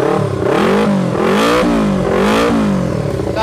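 A two-cylinder Yamaha Vixion with an aftermarket three-mode exhaust set half open revs repeatedly close by, a deep, bassy engine note surging in about four throttle blips over a steady idle.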